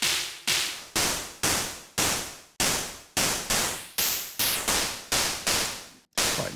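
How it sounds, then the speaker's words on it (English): Groove Rider GR-16 electronic percussion through a ring modulator effect, played as a steady rapid run of loud, harsh metallic hits, roughly two per second, each sharp attack fading quickly before the next. "Ring modulator."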